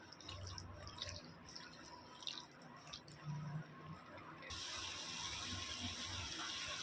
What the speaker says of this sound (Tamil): இப்போது இப்படியே வந்து ஹை ஃப்ளேமில் நல்லா பாயில் ஆகட்டும்.